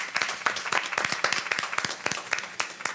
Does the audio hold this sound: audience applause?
yes